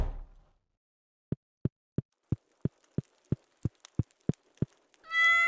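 A cat in Stardew Valley gives a short meow after a soft rustle, then a run of a dozen evenly spaced low thumps, with a brighter chime rising at the end.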